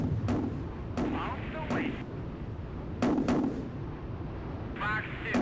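Anti-aircraft flak fire in the Strike Fighters 2 combat flight game: repeated booming bursts at roughly one-second intervals over a steady low engine rumble, fairly loud and distant-sounding, with no talk.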